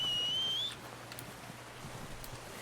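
A short, sharp, rising whistle to call a horse in Red Dead Redemption 2, lasting under a second, then only faint ambient outdoor background.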